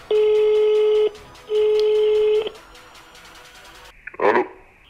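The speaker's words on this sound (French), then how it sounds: "j'ai déjà enregistré son numéro, hop, voilà, on va l'appeler" A phone call on speakerphone gives two long ringing tones, each about a second, then a pause before a brief burst of noise as the line connects.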